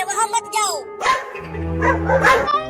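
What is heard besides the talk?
dogs barking in front of a wooden house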